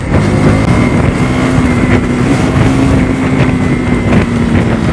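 A KTM Duke 200 motorcycle engine and exhaust while riding, a steady loud droning hum mixed with wind rush, continuous throughout with no talk.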